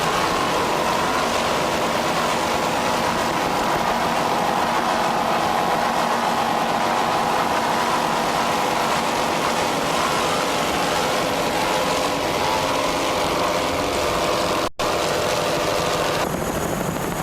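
A 33-foot Fountain racing powerboat's engine drones steadily and loudly for a long stretch of an offshore powerboat race, with one brief dropout near the end.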